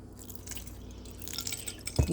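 Water trickles and drips into arepa dough in a home kitchen, soft wet splashing building toward a louder squishy mix at the end.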